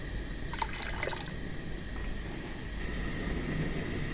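Water in a cooking pot for rice bubbles and burbles at a low, steady level, with a brief cluster of sharper splashy pops near the start.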